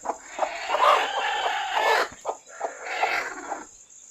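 A country hen brooding on eggs in an oil-tin container clucks in low, throaty bursts, close and moderately loud, with a short pause before another run of clucking.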